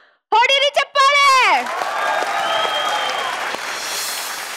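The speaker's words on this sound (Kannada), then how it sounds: "ಹೊಡಿರಿ ಚಪ್ಪಾಳೆ" Studio audience applause on a Kannada comedy show stage, a broad steady wash of clapping that follows a brief burst of voices and carries on for several seconds before thinning slightly.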